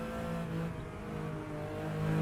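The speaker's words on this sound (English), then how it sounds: "the tire noise is completely drowned out here in Assetto Corsa by the engine sound" A 1974 Porsche RSR 3.0 engine in the Assetto Corsa racing game gives a steady, loud, close drone with strong harmonics and slight pitch shifts throughout. No voices are heard.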